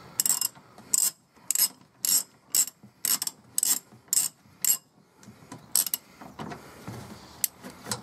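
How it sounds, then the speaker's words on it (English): A ratchet fitted with an impact socket loosens bolts under a Fiat 500 during an oil change, giving about nine evenly spaced, sharp clicking bursts close up, then a few scattered clicks and handling noises. "And yes, I am using impact socket."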